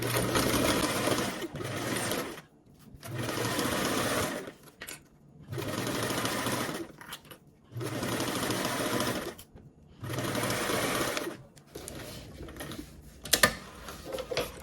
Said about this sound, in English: we're gonna baste along the top edge with a 1/8 seam allowance